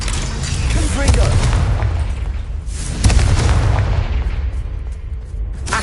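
Confringo blasting spells explode in Hogwarts Legacy: two deep, booming blasts land a couple of seconds apart, each rolling into a rumbling tail, while a voice talks underneath.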